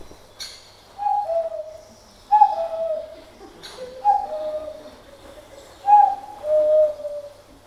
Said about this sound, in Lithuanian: Ar girdite tų paukščių čiulbėjimą?